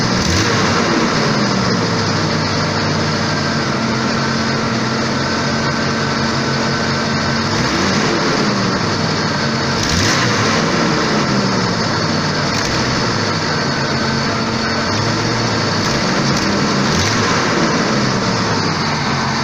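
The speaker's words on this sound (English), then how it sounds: "See, it's still doing that stall thing. It's running high RPM." Engine of a 1989 Jeep XJ idling at high RPM while the stalling fault persists, a loud, close, steady drone with faint wavering in pitch and no talk over it.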